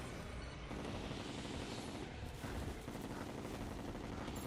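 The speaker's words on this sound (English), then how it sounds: "Switching to sniper rifle at the beginning for most damage." Sniper rifle fire in a shooter video game, heard as a dense, continuous roar of gunfire and battle noise that stays loud throughout with no clear pauses.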